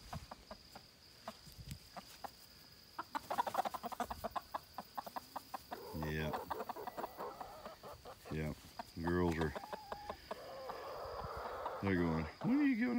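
Backyard chickens cluck in rapid bursts and drawn-out calls, close and fairly loud, with a person talking intermittently among them.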